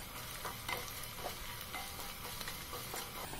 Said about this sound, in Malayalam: ഇതിന് ശേഷം നന്നായിട്ടൊന്ന് മൂപ്പിച്ചെടുക്കാം.